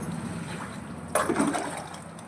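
Water sprinkled by hand onto front yard steps, a low background hum and then a sudden splash of liquid hitting the ground partway through, trailing off into a short trickle.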